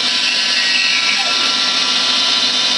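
A power saw cuts a piece of timber into equal-thickness segment slices against a stop block. It makes a loud, steady, high-pitched whine that holds continuously with no pause.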